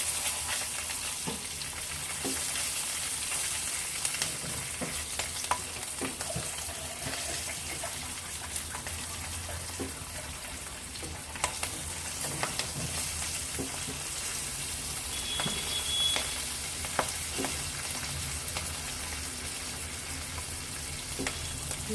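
Black cumin seeds and green chillies frying in oil in a home kitchen pan, a steady close sizzle with crackling pops and occasional stirring clinks throughout, no voices.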